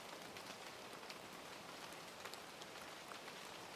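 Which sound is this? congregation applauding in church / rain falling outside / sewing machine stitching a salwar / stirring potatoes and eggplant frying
rain falling outside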